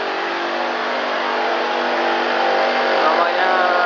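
A Karcher high-pressure jet washer cleans the gaps between floor tiles, giving a steady, loud motorized whine layered with a spray hiss that holds constant throughout.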